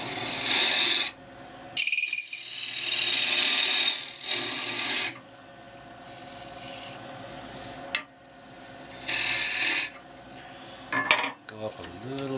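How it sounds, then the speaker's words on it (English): Bowl scraper cutting a small cherry bowl spinning on a wood lathe, giving loud rasping scrapes in repeated bursts of a few seconds each with short pauses between them, close up. "And I think head back to the bowl scraper."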